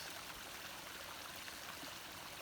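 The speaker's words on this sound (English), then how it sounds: "the burgeoning streams of water from the heavy rains." Streams swollen by heavy rains flow outdoors past a carpet of fallen leaves, making a steady, even rush of running water with no voices.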